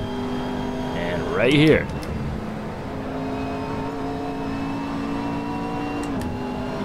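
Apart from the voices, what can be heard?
McLaren 12C GT3 engine shifting gears in Assetto Corsa video game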